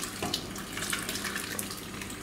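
Liquid ingredients are poured into a pot of nettle soup with garlic dumplings, a continuous close splashing stream that holds steady for a couple of seconds.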